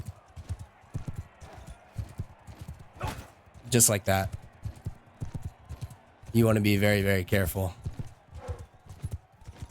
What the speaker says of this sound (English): All right, we are on horseback.